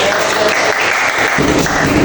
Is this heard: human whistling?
no